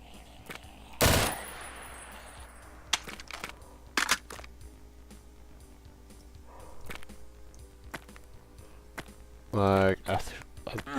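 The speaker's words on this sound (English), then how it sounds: "This is a nice gun. The M16 might be better." M16 machine gun fire in Doom, heard as a sharp loud burst followed by scattered shots and clicks, with a mechanical whirring sound near the end and occasional talk over the game noise.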